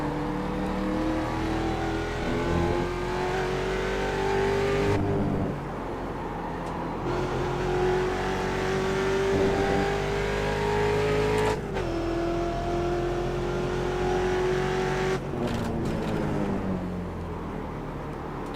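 A Ford Mustang race car engine in iRacing at Laguna Seca revs hard through repeated rising pulls, each broken by a sharp gear shift, with a loud, continuous, close engine drone throughout.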